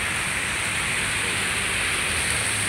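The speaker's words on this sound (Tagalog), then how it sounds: "Nabutan pa kami ng ulan." Heavy rain pours steadily as a dense, loud hiss with no pauses and no voices.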